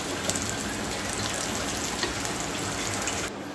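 Fasting cutlets made for a vrat fry on a hot tava griddle, giving a steady, dense sizzle that runs unbroken and fairly loud, easing slightly at the very end.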